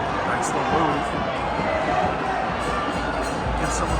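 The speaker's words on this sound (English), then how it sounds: "those Atletico Nacional fans, they definitely started to be in full voice again" Atletico Nacional fans roar and cheer in a stadium during a club international friendly, a dense, continuous crowd din with shouting voices blending into a steady wall of noise.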